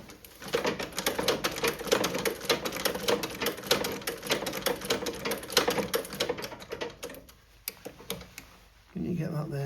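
Antique cobbler's stitching machine sewing through eight thicknesses of shoe upper leather, a rapid close mechanical clatter of repeated ticks that slows and stops near the end, with people talking over it.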